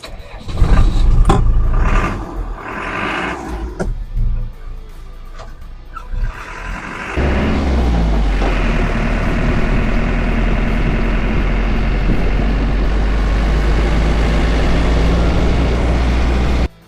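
A classic Land Rover Defender drives along, its engine rumbling low and steady with rattling and road noise, after a rougher start with knocks and revving.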